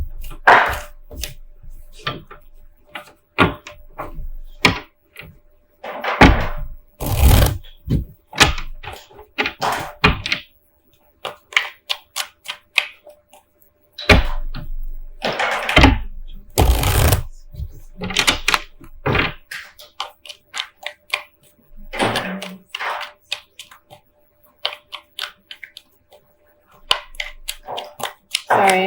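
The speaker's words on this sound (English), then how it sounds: "I have a toddler playing with blocks." A toddler playing with blocks indoors, sharp irregular knocks and clatters in scattered bursts, some close and loud, others softer, with quiet gaps between.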